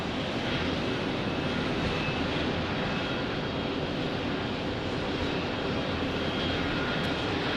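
An American Airlines Boeing 737-800 jet arrives at Phoenix Sky Harbor airport, its engines a loud, steady broadband roar that fills the whole stretch without letup.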